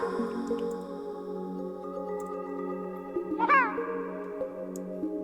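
A cat meows once, clear and close, over a layered backdrop of sustained tonal game music and faint dripping effects.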